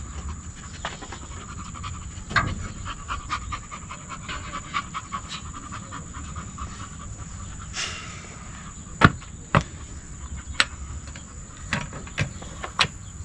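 A puppy pants steadily beside a Tacoma pickup with air suspension under repair, the quick breathing running throughout at close range, with scattered clicks and a few sharp taps, over a bed of outdoor insect chirping.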